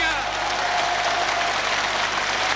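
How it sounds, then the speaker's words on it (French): Thunderous applause from the assembly at the Palestinian National Council as the State of Palestine is proclaimed, a dense, roaring wash of clapping from a large hall crowd with a broadcast voice over it. "Tonnerre d'applaudissements,"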